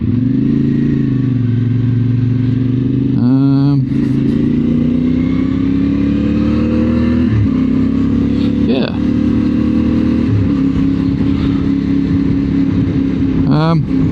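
A CF Moto 450 MT adventure motorcycle engine drones steadily while riding along a once-flooded country road, a loud continuous near hum with brief rising rev bursts at gear changes, under steady wind noise with a rider talking over it.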